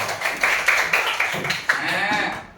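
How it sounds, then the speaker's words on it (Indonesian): A classroom of Indonesian pupils claps hands during an ice-breaking activity, several loose group bursts in an uneven rhythm, fairly close and moderately loud, fading toward the end. "beri tepuk tangan dulu dong"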